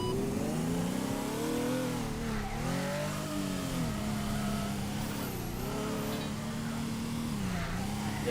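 Video game car engine revving steadily, with a continuous droning tone that rises and dips in pitch several times, moderately loud with no talk.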